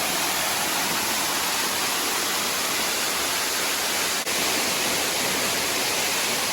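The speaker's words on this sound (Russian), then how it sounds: "Верхний Буталковский водопад." The Upper Butakovsky waterfall near Almaty roars as a dense, even hiss of falling water, constant and fairly close, with a snowy mountain setting and no talking.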